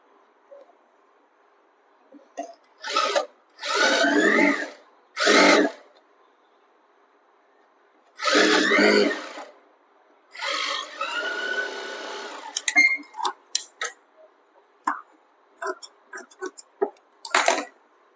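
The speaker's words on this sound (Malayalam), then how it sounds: "എന്നിട്ട് നമ്മൾ 1/4 ഇഞ്ചിൽ സ്റ്റിച്ച് ചെയ്തിട്ട് അടിച്ച് മറിച്ചു കൊടുക്കുക" A sewing machine stitches kurti fabric panels along a quarter-inch seam in several short whirring runs separated by pauses. Scattered small clicks and handling noises fill the gaps, and no one talks.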